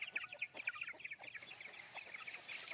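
Chickens clucking softly around a backyard in the Philippines, a run of quick high chirpy clucks that thins out into faint background, no talk over it.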